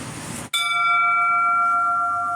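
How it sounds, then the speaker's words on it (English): Original bell with clanger on a restored Commer Magirus turntable ladder fire truck, struck once close by and ringing on as a bright, steady, sustained tone. "This is the bell."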